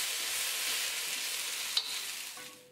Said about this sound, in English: Stir fry a bit to combine.